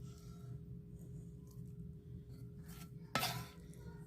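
A utensil scoops cooked sausage from a greasy pan for zuppa toscana: a quiet, continuous low sizzle with soft scraping, then one sharp metallic scrape against the pan near the end.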